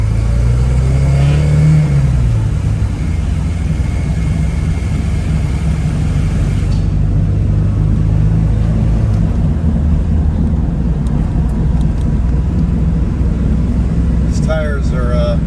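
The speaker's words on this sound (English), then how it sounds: "the rumble that I hear, I think, is a wheel bearing going bad in the right front tire, or a brake, something dragging." Porsche 924S on its first drive after being revived, with a rumble from a failing right front wheel bearing or dragging brake: a loud, steady interior road drone and engine hum with a low rumble, rising briefly as it accelerates.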